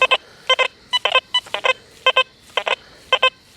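A Deus 2 metal detector with an HF2 coil sounds sharp, electronic double beeps as it sweeps over buried targets, a silver dime and colonial nails. About seven bursts repeat in a quick rhythm, close and clear.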